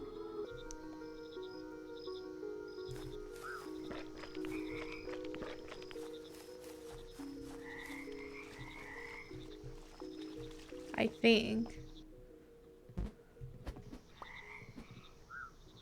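A frog croaks in the video game Mudborne, with short, quiet croaks repeating over a soft background while a voice briefly speaks.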